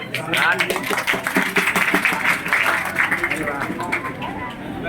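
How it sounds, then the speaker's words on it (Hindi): A classroom of students clapping together in a coaching class, a loud, busy patter of hands mixed with chatter and voices throughout, rising and falling slightly in intensity. "बजा ताली।"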